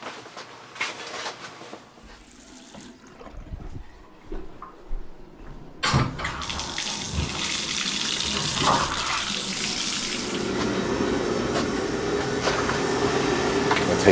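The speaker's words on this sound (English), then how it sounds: "Let me open up a couple of faucets." Water gushes from opened household faucets during a water softener resin replacement, starting after some handling noises and then running as a steady, loud, broad rush that continues to the end.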